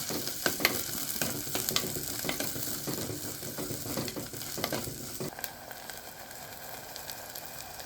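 Crushed dried chillies, garlic and shallots frying in hot coconut oil, a steady close sizzle with sharp crackles and stirring scrapes, the spitting easing slightly after a few seconds; no talk.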